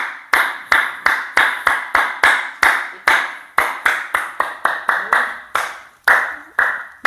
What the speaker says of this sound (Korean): 이렇게 박수를 세게 치면서